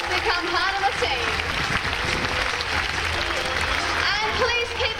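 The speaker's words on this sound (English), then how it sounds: "please keep that applause going for our dedicated team of trainers" An audience at an outdoor dolphin show applauds, steady clapping from a large crowd at moderate distance, with an announcer's amplified voice talking over the applause.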